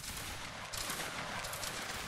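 Massed musket volleys in a Roblox Waterloo battle game, a dense crackling fusillade that swells after a brief lull and rolls on steadily, moderately loud, with no talk over it.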